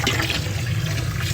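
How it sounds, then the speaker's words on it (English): Hot water poured onto homemade herb soap, a steady rushing, bubbling pour that stays close and loud throughout with no talking. "Just from pouring hot water into"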